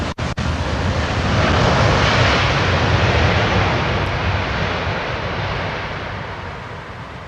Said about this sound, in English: Looks like a 777-200 with American Airlines.